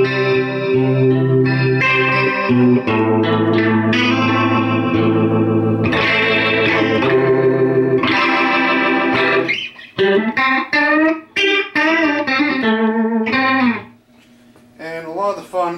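Leslie 125 rotary speaker spinning at fast speed, an organ's sustained chords and runs swirling with rapid tremolo warble, loud and continuous before cutting to a quieter tail near the end.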